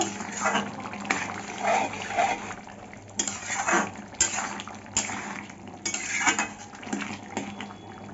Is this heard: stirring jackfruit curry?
yes